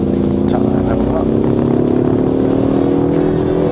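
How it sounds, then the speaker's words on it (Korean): A Ford Mustang 2.3 accelerates with a loud, steady engine and exhaust drone that rises slowly in pitch, with some of the exhaust note produced artificially inside the cabin, and road noise throughout. "자, 이 엔진과 이 배기음,"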